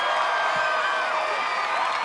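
A large American Ninja Warrior arena crowd cheers and whoops steadily, a continuous bright roar of many voices, with a commentator talking over it.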